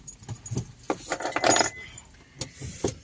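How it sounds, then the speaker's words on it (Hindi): Keys jangling and clinking as they are dropped into a purse, a series of bright metallic rattles and taps over about three seconds, close by, with faint background noise. "चलो अभी चाबी तो हम पर्स रख के निकल"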